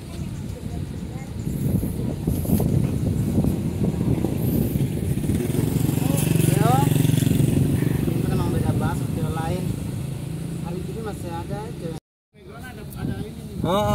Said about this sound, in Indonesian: ada motor Supra